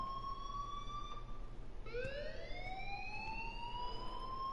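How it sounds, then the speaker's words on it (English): A school alarm from the game Life Is Strange wails as a siren-like tone, briefly breaking off and then rising again, sustained and fairly faint under a low background hum, with no talking. "please turn off that alarm since that's your job"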